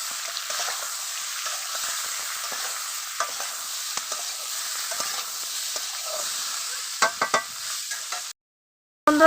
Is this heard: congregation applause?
no